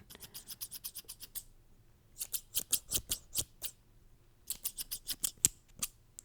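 Scissors snip close and crisp in quick bursts of several cuts, then pause, then snip again, each cut a sharp metallic click with quiet gaps between the runs.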